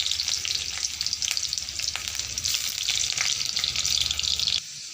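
Sliced onion and two green chillies frying in hot oil in a pan, a loud steady sizzle with crackling bursts, close up, stopping abruptly near the end; no speech.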